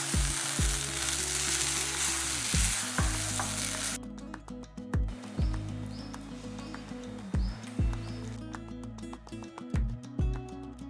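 Vegetable thokku is sautéed in a pan, producing a close frying sizzle that fades back midway, with regular rhythmic spoon strokes scraping through the thick mixture.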